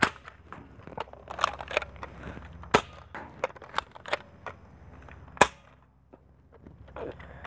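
A modified NERF Maverick blaster fires foam darts in a run of sharp, snappy pops, some loud and close, spaced irregularly with quieter clicks and handling noises between them and no talking.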